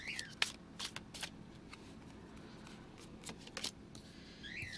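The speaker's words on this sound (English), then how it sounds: "I hate shuffling these cards" Quiet riffling and snapping of a Deviant Tarot card deck being shuffled by hand, several short crisp bursts over a low background hiss, no voices.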